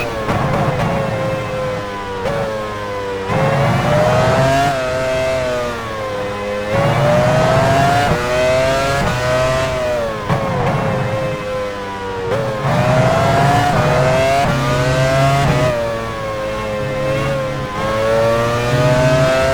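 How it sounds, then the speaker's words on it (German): Formula 1 cars at the 2001 Belgian Grand Prix at Spa-Francorchamps in F1 Challenge 99-02 scream through rising and falling high engine notes, loud and close, with repeated gear shifts. "Jos Verstappen fährt jetzt wieder aus der Boxengasse"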